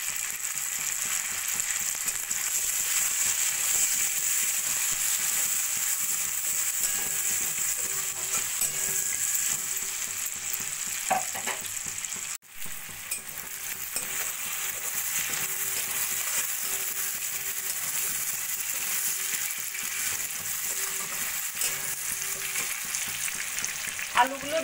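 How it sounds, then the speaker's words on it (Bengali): Diced potatoes and onion fry in a pan, a steady hissing sizzle running throughout with occasional stirring scrapes and one sharp knock midway. "আলুগুলো দিয়ে 2 মিনিট মতো নাড়াচাড়া করে নিয়ে দিয়ে দেবো"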